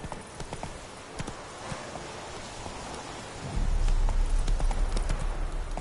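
Horse hooves clip-clop in a steady rhythm in the White Orchard area of a video game, shifting into a heavier, louder galloping beat partway through, with soft ambient rain-like noise behind.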